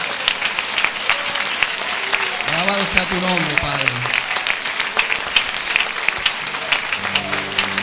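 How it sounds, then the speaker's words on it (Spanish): A church congregation claps during a Sunday morning service while a voice sings or calls out over the steady applause, and a musical tone rises near the end. "Démosle un aplauso, un buen aplauso a nuestro Señor."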